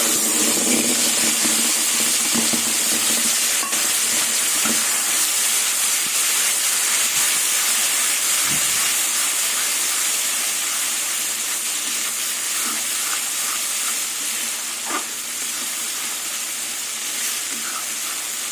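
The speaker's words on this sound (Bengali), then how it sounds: "তেল গরম হয়ে গেছে এবার মিক্সিতে বরবটি রসুন লঙ্কা সব বেটে নিয়েছিলাম এবার দিয়ে" A paste of ground yardlong beans, garlic and chili fries in hot oil with a constant, loud, close sizzle and hiss that holds steady the whole time, broken only by faint stirring clicks.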